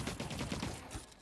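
Rapid gunfire from a shooter in the online PvP game The Cycle: Frontier, a loud burst of closely spaced shots with a few more trailing off.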